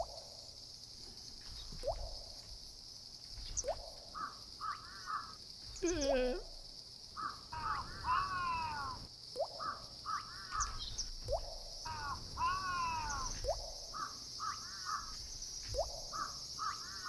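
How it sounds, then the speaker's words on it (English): Crows cawing in repeated harsh calls scattered across the span, moderately distant, over a faint steady hum. "There are some birds in there."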